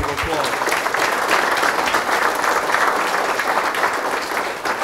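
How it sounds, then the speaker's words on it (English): Audience applause at an Exchange Club award ceremony, a sustained burst of clapping from a room full of people, loud and continuous throughout. "Round of applause."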